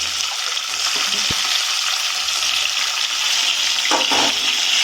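Tomato pieces frying in a pan, giving a steady close sizzle, with a brief thump and a short scrape of stirring near the end.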